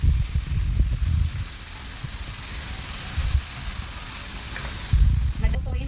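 Cooked scallop chicken sautéing in a pan, a steady sizzle and frying hiss with occasional stirring clatter, moderately loud and continuous.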